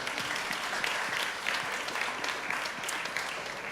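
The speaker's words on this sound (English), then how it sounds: "Round of applause for everybody, please." An audience at a startup competition gives a sustained round of applause for the participating startups, dense and even clapping that stays steady throughout without talk.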